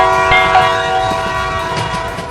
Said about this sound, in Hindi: तो जल्दी ट्रेन की सीटी बजाओ।